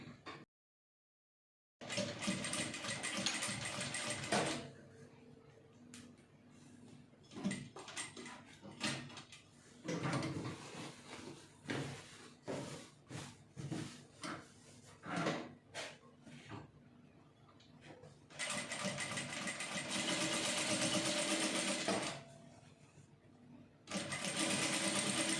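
A home sewing machine stitching a single welt pocket, running in several steady runs of varying length with short pauses and small handling sounds between them, fairly close and alone.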